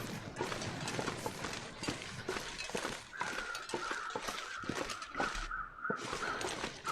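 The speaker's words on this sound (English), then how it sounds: "Oh, I hear more crows down this way." Crows caw in the snowy wilderness of The Long Dark, a run of harsh calls in the middle stretch, mixed with crunching footsteps that thud steadily throughout.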